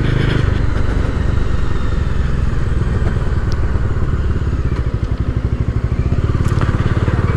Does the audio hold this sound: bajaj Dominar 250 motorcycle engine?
yes